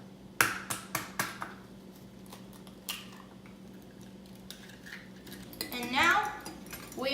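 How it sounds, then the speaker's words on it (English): An egg is cracked into a bowl holding an Italian spice mixture, heard as a quick series of sharp taps against the rim. Clattering follows, then a brief voice. "So the next step is to take your egg and we are going to crack it."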